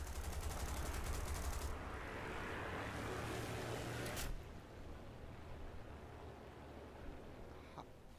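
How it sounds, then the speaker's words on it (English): A fast, steady rattle of machine-gun fire in War Thunder, with rounds hitting the player's vehicle, running for about four seconds under a rushing engine drone, then cutting off into quieter rumble. "And now I'm being shot."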